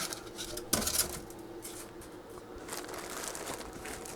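Styrofoam packaging squeaks, rubs and crinkles at close range while a Camp Chef Woodwind 24 Pro pellet smoker is unpacked, with one sharper knock early and quieter handling after.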